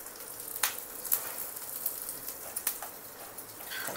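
Peanuts frying in hot oil for a Navratri fasting thecha, a soft steady sizzle with scattered sharp pops and crackles, fairly quiet and with no one talking.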